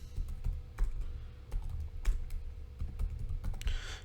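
Scattered keystrokes and clicks from a computer keyboard as CSS code is typed, irregular and close, with a quiet room hum underneath and no talking.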